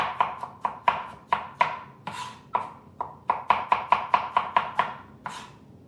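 A knife slicing fresh strawberries on a cutting board, making a quick series of crisp, close chops in an uneven rhythm, about fifteen knocks with short pauses, and no talking.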